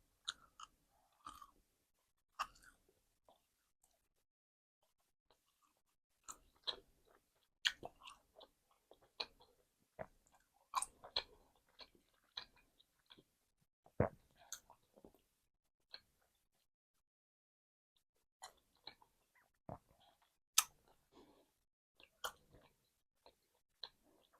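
Gum chewing close to the mic in a quiet room, with sporadic wet smacks and clicks spread through the clip, sometimes in quick clusters and sometimes with pauses between.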